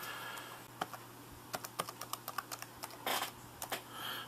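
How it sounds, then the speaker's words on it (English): Keys on a Lenovo ThinkPad T410 laptop keyboard are pressed one by one, giving crisp, close clicks at an irregular pace with a short flurry near the end over a low steady hum. "we'll hit all the keys and test them out here"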